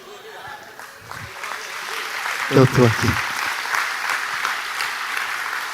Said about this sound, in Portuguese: Aplauda você.